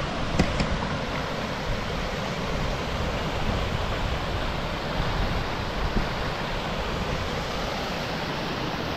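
A constant rushing roar of falling water fills the whole clip, steady and close, with a couple of faint clicks early on.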